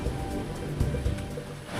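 Strong rushing river water during a mountain river crossing in the Sierra Madre, a broad steady roar with low rumbling surges, heard close and alone without talk.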